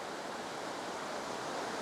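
A river on Dartmoor rushing steadily in a shady spot under oak trees, a dense, continuous close wash of flowing water with no voices.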